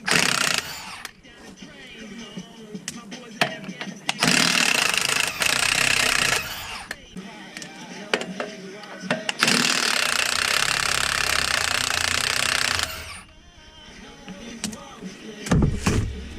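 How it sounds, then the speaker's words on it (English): A pneumatic impact wrench rattles in long, loud bursts removing lug nuts from a Dodge 2500, hammering and whirring with brief pauses and clanks between runs. "that's where the impact comes in handy, and you need your set of sockets"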